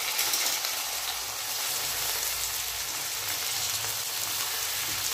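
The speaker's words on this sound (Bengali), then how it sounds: "আলুটা একটু শক্ত করে আমি আগে ভেজে নিলাম" Potatoes frying in a pan as a vegetarian pasta dish is cooked, giving a steady, loud, continuous sizzle with no pauses.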